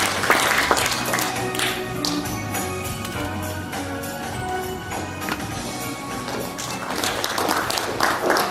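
Sustained applause fills a large auditorium at an anniversary award ceremony, dense clapping that swells again near the end, with low murmuring beneath.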